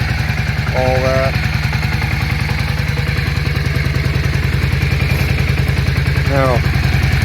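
A 1997 Yamaha Virago 535 V-twin motorcycle idles with its lights on, a loud, steady, close throbbing pulse that holds evenly throughout, with a voice heard briefly over it.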